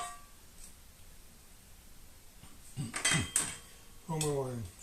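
Fried dressing scraped from a frying pan into a soup pot brings a quiet lull, then a burst of metal scraping and clattering of a utensil against the pan and pot, with a short voice near the end.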